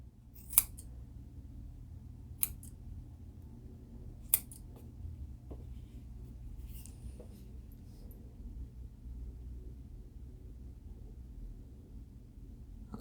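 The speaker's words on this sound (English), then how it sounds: "So first of all, we have to cut all these loops." Scissors snip through yarn loops on a knitted ornament, giving three crisp, distinct cuts spaced a couple of seconds apart, then a few softer snips, all close and quiet over a faint low room hum.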